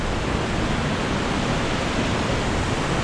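Water pours steadily from a hole in the rock at the spring source of the Soča river, a dense, continuous rushing roar that stays loud and even throughout.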